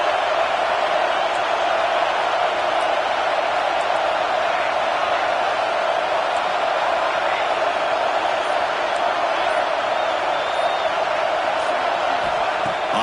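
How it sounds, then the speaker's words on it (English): A large football stadium crowd roars steadily during a college playoff game, urging on the defense near the goal line; a loud, continuous wall of cheering and whooping with no break. "And here comes the noise. This crowd is trying to inspire this defense to make a big red zone stop."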